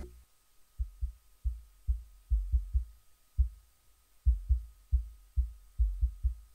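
A low, muffled kick drum, shaped by a high-pass filter, thumps in a steady, syncopated pattern, deep and rounded with little high end, over a faint background hum.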